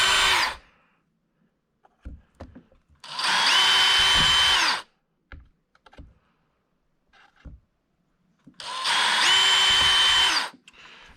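A power drill whirs in three bursts of a couple of seconds each, drilling holes for a battery tray in an X-Maxx RC truck, close and loud, with quiet clicks and handling knocks in between.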